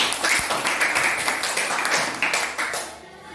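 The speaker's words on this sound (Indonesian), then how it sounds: "Tepuk tangan." Classroom clapping from a group of pupils, a dense burst of many hands applauding together at close range that fades away near the end.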